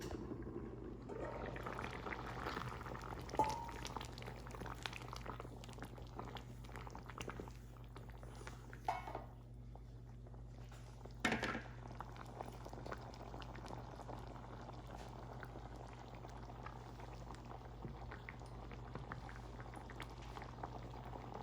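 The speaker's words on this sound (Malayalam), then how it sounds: "നന്നായിട്ടൊന്ന് തിളച്ച് വരട്ടെ." Palakkad-style egg tamarind gravy boils in a covered pot, a soft, steady bubbling simmer that runs throughout, with a few brief clinks and bumps and no talk.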